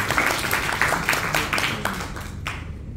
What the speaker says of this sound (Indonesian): Boleh tepuk tangan sekali lagi, Mas.